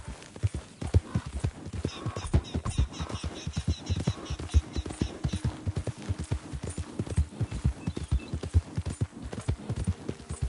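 Horse hooves clip-clop in a steady galloping rhythm in Red Dead Redemption 2, loud and close, with faint game ambience and a brief whinny underneath.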